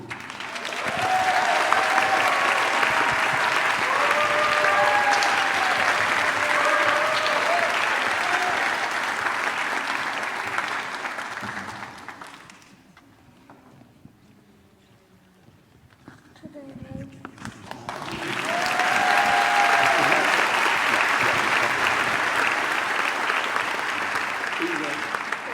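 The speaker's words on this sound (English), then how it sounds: "Let's give these gentlemen one more huge round of applause." An audience at an awards event applauds presenters with loud, dense clapping that fades to near quiet midway, then a second strong round of applause rises again and continues to the end.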